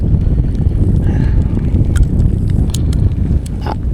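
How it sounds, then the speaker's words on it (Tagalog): Steady, loud wind buffeting the microphone while kayak fishing, with low rumbling gusts throughout and a few faint clicks and rustles on top. "naghaguros ang hangin"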